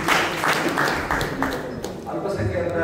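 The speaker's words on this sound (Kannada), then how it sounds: "ಅವರಿಗೆ ನಿಮ್ಮೆಲ್ಲರ ಪರವಾಗಿ ಚಪ್ಪಾಳೆ ಮೂಲಕ ಅಭಿನಂದನೆ" An audience at a Catholic community information meeting applauds, with a steady, fairly close wash of clapping that carries on for a few seconds.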